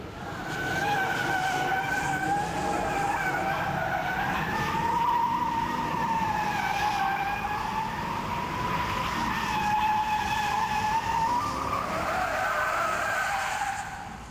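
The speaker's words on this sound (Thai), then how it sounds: "อารมณ์อารมณ์เผายางนะคุณผู้ชมครับ" A car doing a tire burnout on a racing show, with a continuous high, wavering tire squeal riding over a roaring engine for about fourteen seconds, loud and steady throughout.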